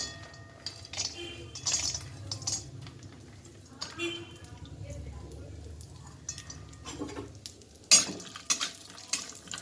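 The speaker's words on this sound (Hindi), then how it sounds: "तो कढ़ाई में थोड़ा तेल डाल के सबसे पहले काजू को रोस्ट कर लेते हैं।" Cashews roasting in a little oil in a kadai, with metal spoon clinks and scraping against the pan in irregular bursts, a faint background sizzle and a sharper clatter near the end.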